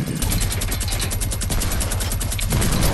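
Minigun firing in a video game, one sustained burst of rapid, evenly spaced shots with a heavy low rumble, close and loud for nearly three seconds, with no talk over it.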